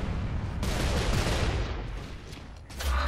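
Sustained bursts of automatic gunfire and rapid shots in a Gears of War 2 online match, dense and continuous for about three seconds, with a louder burst at the end and no talking.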